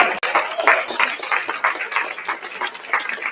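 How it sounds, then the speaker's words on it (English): Banquet audience applauding keynote speakers: a dense, steady wash of clapping from a crowd in a hall, with no speech. "how about another round of applause for our keynote speakers?"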